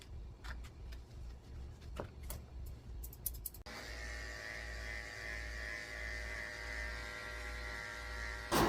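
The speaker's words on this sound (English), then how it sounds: "I'm shaving under her tail and her potty area with a tin blade." Electric clippers with a thin blade shaving an elderly Cairn Terrier's fur under the tail, a faint buzz with scattered clicks at first, then a steady, louder hum running to the end.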